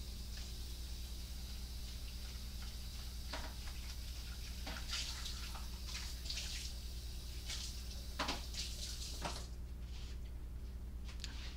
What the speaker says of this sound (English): Let me rinse this out.